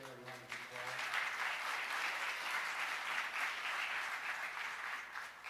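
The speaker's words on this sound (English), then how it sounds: "So can we give Kia Retta a round of applause" A church congregation bursts into sustained applause, dense and steady for several seconds after a brief moment of speech at the start, then slowly tapering.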